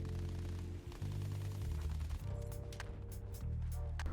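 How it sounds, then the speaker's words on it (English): Rapid Battlefield 1 gunfire from a World War I setting: a dense, continuous rattle of automatic bursts with heavy low thumps and a few sharper cracks near the end. "real-world audio of guns has been recorded to make the experience"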